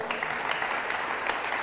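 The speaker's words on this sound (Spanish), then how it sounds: "Denle fuerte el aplauso al Señor." A church congregation at a Spanish-language service claps loudly and steadily, a dense wash of applause that fills the room without a break.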